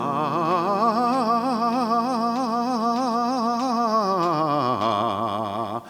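A singer runs quickly up and down a scale on the bright syllable "za", notes wavering rapidly, ending on a lower sustained tone.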